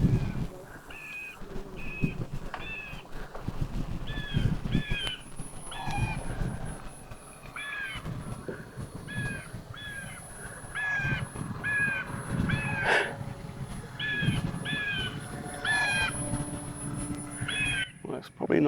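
Screaming sound effect blasted from a small onboard speaker on a Dancing Wings Hobby DW Eagle V2 EPP RC airplane, 1430 mm wingspan, as repeated short cries over steady wind and motor noise, with a person talking at times.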